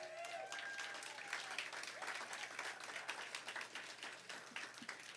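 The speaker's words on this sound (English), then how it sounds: "That is either your cheering section or Hal Barnes' cheering section" An audience at a civic recognition awards ceremony applauds, a fairly distant, even patter of many hands clapping with some cheering mixed in, continuing steadily for several seconds.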